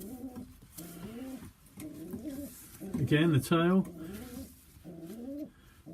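A young Sheffield hen pigeon coos repeatedly in rising, wavering phrases close by, with someone talking briefly between the calls.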